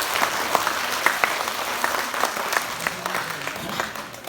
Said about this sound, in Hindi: एक बार जोरदार तालियां बजा के मुझे भी प्रोत्साहित करें